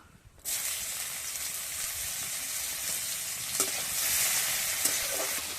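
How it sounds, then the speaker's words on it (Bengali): Chopped onions with a pinch of asafoetida hitting hot oil, bursting into a loud, steady sizzle that holds for several seconds, with faint stirring clinks and a swell in intensity partway through. "ওই গরম তেলে দিয়ে দেব একটু হিং এবার দেব পেঁয়াজ কুচি"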